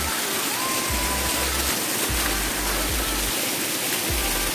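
Candagit Falls in Santo Niño, Quinapondan, Eastern Samar roars as a steady, loud, close wash of falling water, with deep low rumbling pulses under the constant spray.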